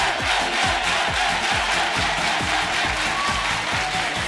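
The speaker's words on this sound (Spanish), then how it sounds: "La ovación de todo el público de Alameda es lógico" Crowd cheering and ovation at an outdoor summer town game show event in Alameda, a steady, loud wash of many voices and clapping sustained throughout without pause.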